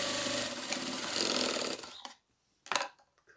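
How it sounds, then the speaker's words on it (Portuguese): A sewing machine stitches the shoulder seams of a dog bathrobe, its motor whirring steadily and close for about two seconds before stopping, followed by a couple of short bursts of fabric handling. "Vamos costurar ombro com ombro."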